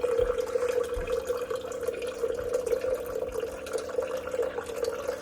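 A Hydrofast C100 countertop reverse-osmosis water filter dispenses water with a steady mechanical hum and a soft continuous trickle, close and even throughout.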